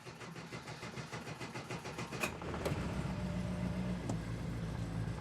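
A Daewoo Matiz engine cranks and catches after the car has sat parked for weeks, settling into a steady, fairly close idle with a brief whirr near the start.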